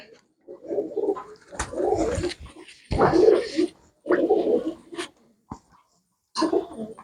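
Several short, breathy cooing bursts come from a white pigeon held up close for inspection at a pigeon sale, separated by brief pauses.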